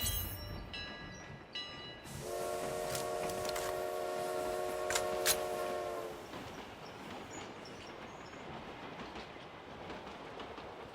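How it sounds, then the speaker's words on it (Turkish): A freight train rolls along in the PUBG Mobile video game, with a steady rumble and clatter throughout and a long, loud horn sounding for several seconds early on. "Herhalde yük treni arkadaşlar."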